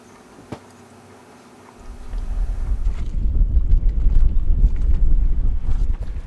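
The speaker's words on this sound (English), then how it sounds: "today it is windy" Strong gusty wind buffets the microphone on a sailing trip along the Greenland coast, a low roaring rumble that builds after a quiet start and stays loud and steady.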